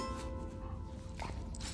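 Dog in The Last of Us Part 2 on PS4, heard in game audio: a faint, brief whimper followed by a short bark, set against quiet background noise.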